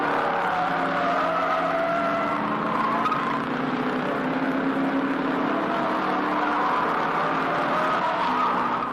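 Race cars at the 1970 Bathurst 1000 cornering through the S's, a sustained engine drone with tonal whine rising and falling steadily, moderately loud and without speech.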